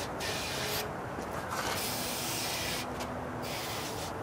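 Cleaner is sprayed onto car battery terminals in two long bursts of close, bright hissing, with a steady background hiss between them and no talk.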